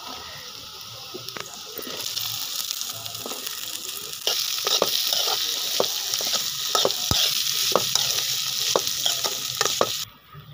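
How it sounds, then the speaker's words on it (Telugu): Raw banana pieces fry with chopped onions and curry leaves in a pan, a steady sizzle that grows louder midway, punctuated by frequent sharp scrapes and taps of a spoon stirring, close and continuous until it cuts off abruptly. "ఇప్పుడు అరటికాయ ముక్కలను కూడా వేసుకున్నామండి"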